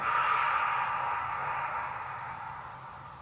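A long, steady exhale through the nose or mouth during a pilates exercise. The close, breathy hiss fades slowly over a few seconds with no talking.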